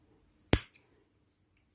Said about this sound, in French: je vais couper ce morceau